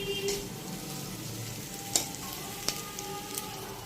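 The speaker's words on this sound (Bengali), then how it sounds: "পেঁয়াজটা ভেজে নিচ্ছি" Sliced onions frying in a pan during home cooking, giving a steady, close sizzling hiss with a few sharp ticks and pops, with no one talking.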